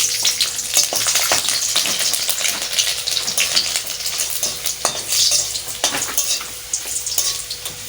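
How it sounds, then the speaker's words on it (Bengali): Whole garlic cloves fry in hot oil with salt and dried red chillies, giving a continuous crackling sizzle with sharp pops and spits throughout. "আমি গোটা সেই রসুনগুলো দিয়ে দিচ্ছি"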